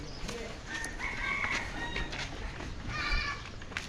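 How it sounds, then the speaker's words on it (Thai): A rooster crows at moderate distance in a Lao village, its harmonic call rising and falling twice over steady outdoor rumble and rustling. "โอ้ไก่เนาะ"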